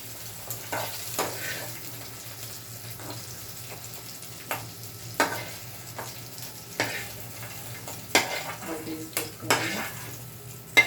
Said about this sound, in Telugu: వేసుకుంటాను పచ్చిమిర్చి, అంటే మరీ ఆపకూడదండి, మాడే వరకు ఇట్లా వేస్తేనే బాగుంటుంది.